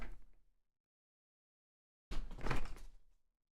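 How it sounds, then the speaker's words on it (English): A water bottle and a TV remote knocked off a table, a brief knock at the start, a gap of silence, then a louder close clatter as they hit and settle. "I knocked the water bottle down and then it knocked the remote off the table"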